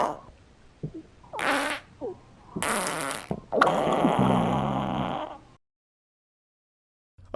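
Cartoon fart sound effects from a Fartimation animation: several separate squeaky, wobbling bursts of varying length, some long and buzzy, ending in sudden silence before a faint final blip.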